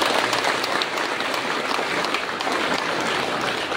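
Sustained applause for appointed directors at a gathering, a dense, even clapping from a sizable crowd that fills the whole stretch without pause.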